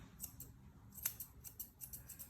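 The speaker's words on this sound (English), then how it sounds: "I'm keeping my scissors at a fairly level to the ground" Grooming scissors trimming the hair around a dog's eyes for an Asian-style head groom, with a quick series of light, close metallic snips, some louder than others, and no talking.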